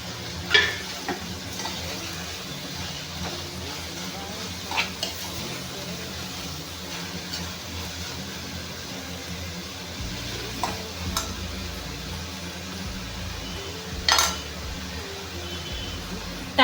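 Bottle gourd pieces frying in a pan for a curry give a steady sizzle with occasional stirring clicks and scrapes, close and continuous throughout.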